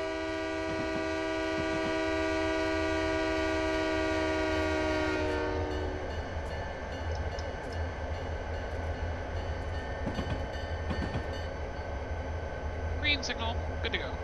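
Simulated train in Train Simulator 2015 on the Soldier Summit route, a long steady horn blast for about five seconds followed by a rolling, rumbling pass of the train, with a voice talking over it.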